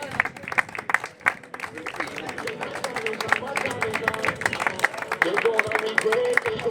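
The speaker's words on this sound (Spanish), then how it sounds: "Fuerte aplauso" Scattered clapping from a crowd at a Galician masters cycling championship podium ceremony, steady and moderately near, mixed with background crowd chatter and some speech babble.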